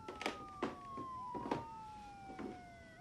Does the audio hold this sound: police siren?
yes